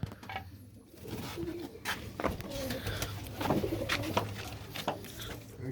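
Pigeons coo softly in repeated low, throaty calls, with voices talking nearby and a steady background hum.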